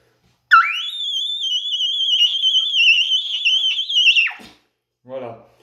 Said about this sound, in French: c'est un sifflement de la trompette.